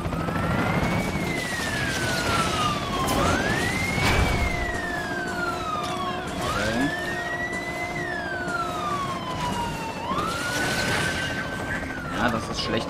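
Police car sirens in the racing game Asphalt Legends wail in repeated rising and falling sweeps, several overlapping at once, loud over a steady engine and road rumble, with someone talking over them.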